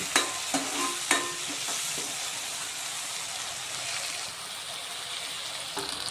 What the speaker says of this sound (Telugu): కొద్దిగా పచ్చివాసన పోయేంత వరకు బాగా మంచిగా వేపాలన్నమాట, మంచిగా వేయాలి